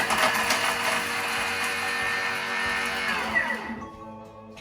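A Thermomix TM6 chops garlic in a short, loud, whirring burst that lasts about three and a half seconds, then cuts off and winds down to quiet.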